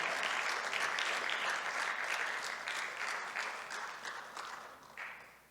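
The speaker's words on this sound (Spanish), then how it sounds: "Denle un aplauso grande al que vive" A church congregation gives a big round of applause, a dense wash of clapping from many hands that holds steady, then gradually fades toward the end.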